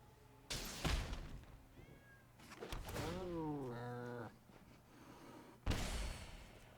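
A cartoonish cat meow with a rising and falling pitch sweep sounds in the Magic: The Gathering Arena digital card game, set between sharp impact effects and thuds.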